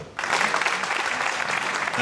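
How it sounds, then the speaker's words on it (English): A crowd at a professional pool match, the 2019 World Pool Masters, applauds steadily, a dense wash of many hands clapping that starts abruptly and holds at an even, fairly loud level throughout. "clapping again now"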